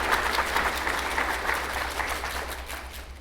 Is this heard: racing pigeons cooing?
no